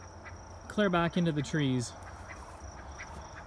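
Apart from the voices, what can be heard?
ducks quacking on a homestead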